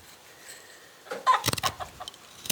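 A rooster clucks several times in quick, uneven bursts close by, after a quiet stretch at the start.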